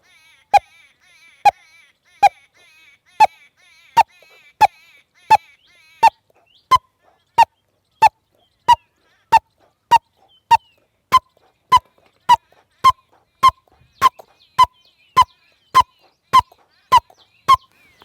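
A farmer imitates a bird call to protect crops, with sharp, evenly spaced honking cries, repeated steadily about two dozen times, loud and close against near silence.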